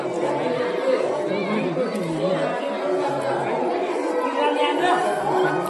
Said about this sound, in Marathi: आणि गर्दी बी भरपूर अटा गोंधळ.